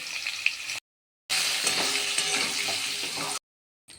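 Potatoes seasoned with turmeric and salt fry in leftover fish-frying oil in a kadai, giving a steady, close hiss and sizzle broken by two brief silent cuts.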